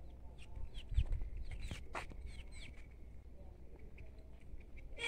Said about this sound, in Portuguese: As galinhas estão ali no terreiro.